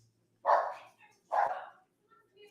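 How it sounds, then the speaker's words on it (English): A dog barks twice, fairly close and moderately loud, with short gaps of near silence around the barks. "dog's barking"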